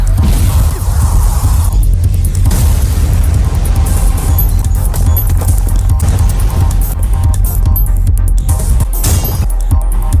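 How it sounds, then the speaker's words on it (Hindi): Gojo's Reversal Red technique from the anime lands as a loud, sustained blast effect, a heavy rumbling roar with crashing bursts over about ten seconds. "ये जोरदार झटका Gauss technique reversal red limitless technique का असर था"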